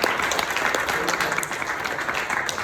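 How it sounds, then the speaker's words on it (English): Lively applause from a seated audience at a founders' community masterclass in Dubai after a magic trick, continuous clapping from many hands at a steady, close level throughout. "So let's give Sil a big round of applause."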